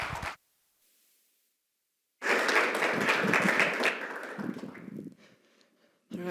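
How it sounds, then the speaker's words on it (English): An audience at a religious inclusion symposium breaks into a dense, sustained round of applause that welcomes the next speaker to the stage, swelling loud and then tapering off, with brief speech before and after. "Let's give her a round of applause."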